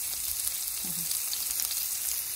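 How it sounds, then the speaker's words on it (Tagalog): Garlic, onion and ginger sauté in hot oil, giving a steady, close sizzle with no pauses and a faint stir of a utensil partway through. "Ngayon, igisa na natin ang bawang, sibuyas, at ginger."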